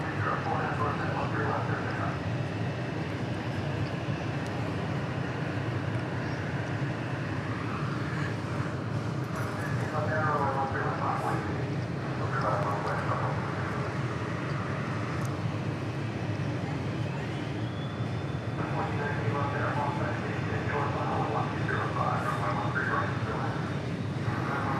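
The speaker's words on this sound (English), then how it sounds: "Here goes the Citation XL, I believe." A Citation XL private jet at Dallas Love Field gives a continuous broad engine roar that holds steady throughout, with someone talking intermittently over it.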